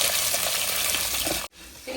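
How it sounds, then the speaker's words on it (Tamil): Small shallots sizzling as they fry in a pan, a close, moderate crackling hiss that holds steady and then breaks off abruptly before resuming more faintly. "சின்ன வெங்காயம் சேர்த்துக்கிறேன்."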